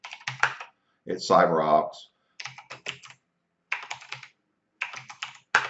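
A password being typed on a computer keyboard: short bursts of close key clicks separated by pauses, with someone speaking briefly in between.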